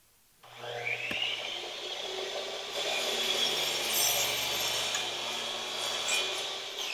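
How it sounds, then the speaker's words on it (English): A chop saw spins up and cuts a rough-sawn wooden board to length for a rustic serving tray, a loud sustained whine and grinding rasp starting abruptly and running for several seconds close by. "line it up to cut a square end and use the chop saw for that"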